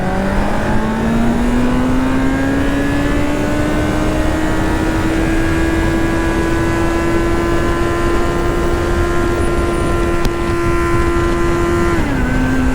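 A Kawasaki Z900 motorcycle accelerates hard in first gear, its engine note climbing steadily to a loud sustained high-revving whine that holds for several seconds before dropping sharply at the shift, close and continuous with no talk.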